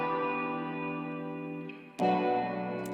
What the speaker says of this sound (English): So the guitar and the pad together, they sound like this.